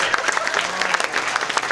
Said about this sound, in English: Give your friends a round of applause.